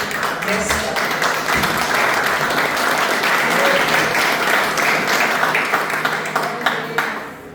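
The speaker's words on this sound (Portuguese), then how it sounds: "dando uma salva de palmas a quem merece" Applause fills a church congregation, a sustained, dense wash of many hands clapping at steady volume for several seconds before tapering at the end, with faint voices mixed in.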